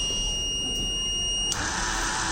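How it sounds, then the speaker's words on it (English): A library robot's buzzer sounds after detecting an RFID-tagged book, a steady high-pitched electronic tone that holds for about a second and a half, then cuts off, leaving a constant background hiss. "it will detect and give buzzer"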